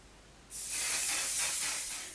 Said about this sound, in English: Setting spray,